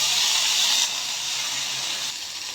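Mustard seeds, cumin, curry leaves and dried red chillies sizzle in hot oil in a pan, a loud, close, steady hiss that continues unbroken throughout, with no talking over it.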